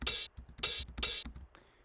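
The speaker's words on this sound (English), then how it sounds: "There's also this little hi-hat right here," Three bright, crisp hi-hat-like bursts in a beat, evenly spaced about every half second over soft low drum thumps, then a faint trailing tick as the pattern drops out.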